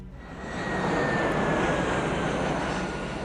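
Jet aircraft unit in the Alpha Centauri strategy game, a steady, loud engine roar with a faint high whine running throughout, alone.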